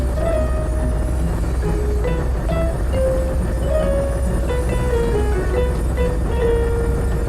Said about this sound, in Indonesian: Ini adalah lokomotif Thomas teman-teman.